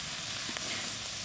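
Food fries in oil in a karahi, giving a steady, fairly quiet sizzling hiss with a brief louder crackle partway through.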